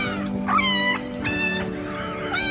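A cat meows three times in drawn-out, tonal cries spaced about evenly, close and clear over a steady low hum, with no talking.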